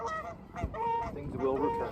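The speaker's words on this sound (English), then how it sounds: "Some geese are flying overhead." Several geese honk repeatedly as they fly overhead outdoors in spring, a loose overlapping series of nasal calls at moderate distance against steady background noise.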